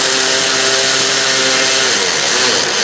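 A power tool tightens a bolt on the AC condenser cooling fan assembly of a 2002-2006 Honda CR-V, giving a loud, continuous whirring drone up close that runs for a few seconds without any talking.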